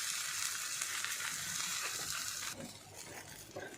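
A thalipeeth flatbread sizzles softly on a hot griddle, a steady gentle hiss that quiets partway through with a few faint scraping touches.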